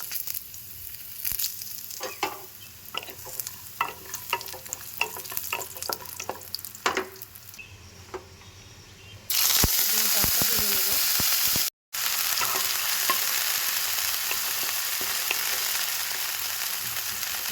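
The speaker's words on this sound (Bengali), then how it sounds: "কড়াতে তেল দিয়ে দিয়েছি আমি বড়িটা ভেজে নেব" Bori lentil dumplings frying in oil in a wok, with scattered clinks and stirring over a low sizzle that then swells into a loud, continuous hissing fry, close by with no talk.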